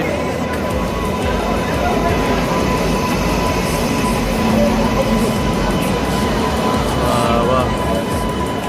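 A train stands at Malda station amid a steady, loud wash of platform and engine rumble, with crowd murmur running through the whole stretch.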